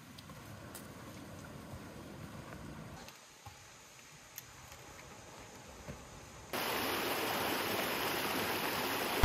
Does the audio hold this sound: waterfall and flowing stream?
yes